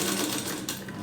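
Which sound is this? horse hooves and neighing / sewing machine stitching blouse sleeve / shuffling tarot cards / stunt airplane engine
sewing machine stitching blouse sleeve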